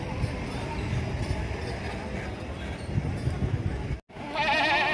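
Goats bleating amid a crowded village livestock market, with steady crowd babble throughout, a brief gap, then a louder, closer wavering bleat near the end.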